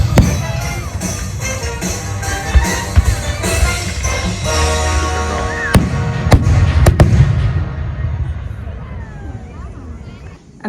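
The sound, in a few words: fireworks exploding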